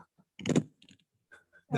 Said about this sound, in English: We can hear typing.